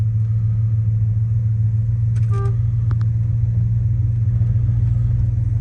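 A 1979 Lincoln Continental Mark V cruising at night, its engine a steady low rumble with road drone throughout, with a couple of faint clicks partway through.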